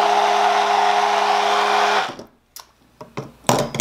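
A Litchi 4 in 1 hand blender runs at full power, a loud, steady whirring motor drone that cuts off abruptly after two seconds, followed by a few clicks and handling knocks.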